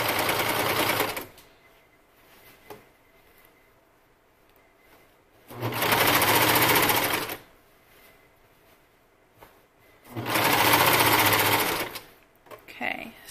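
A sewing machine stitches elastic onto a swimsuit edge in three loud sustained runs of rapid whirring, each a second or two long, separated by quiet gaps with faint handling noise.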